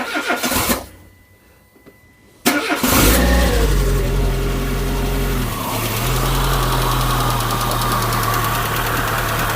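A Peugeot 207 engine cranks and catches after a brief quiet gap, then settles into a steady, loud idle close by, running on without any talk.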